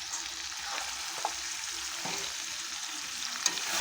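Mutton pieces fry on spices in a pan for a Bengali red mutton curry, giving a steady close sizzle with a few sharp pops and light scraping, no talk.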